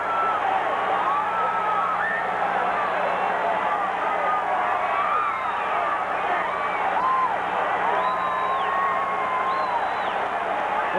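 Wrestling arena crowd cheering as Jimmy Superfly Snuka comes out of the tunnel, a dense, sustained roar with whoops and shouts throughout, and voices audible within the din.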